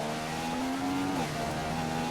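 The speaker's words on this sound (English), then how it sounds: "And the car gets a decent acceleration off." A Formula 1 race car in the F1 2015 video game at Silverstone powers out of a corner, its engine note climbing steadily with a brief shift dip, loud and continuous with no voices.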